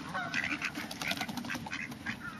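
Several ducks quack and chatter close by in an outdoor spot where ducks gather and are fed, with dense overlapping calls filling the whole stretch and no talk over them.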